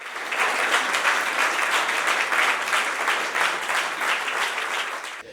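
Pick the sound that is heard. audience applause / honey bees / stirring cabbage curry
audience applause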